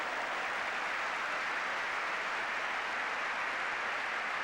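A football crowd in a stadium at a Manchester United v Ipswich Town match applauds, a steady, dense, far-off roar of clapping that holds evenly for several seconds, with no commentary heard.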